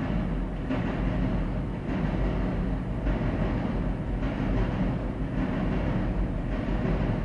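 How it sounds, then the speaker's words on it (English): Train rumbling past close to a station, a loud steady low roar with faint rhythmic pulses, heard through an open window with no talking. "Sorry the windows open and I live right next to the train station."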